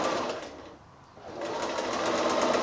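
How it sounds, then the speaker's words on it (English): Sewing machine stitching a quilt seam at a quarter-inch allowance, a fast steady mechanical whir that dips briefly in the middle, then resumes at full pace, close and alone. "we're going to just sew that seam there"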